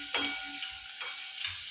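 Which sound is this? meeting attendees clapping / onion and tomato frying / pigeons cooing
onion and tomato frying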